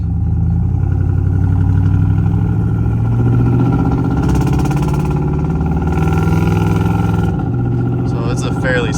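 A truck on Bogger mud tires cruises along a fairly smooth road, its engine and tire drone forming a loud, steady low hum with wavering pitch throughout, while a person talks over it.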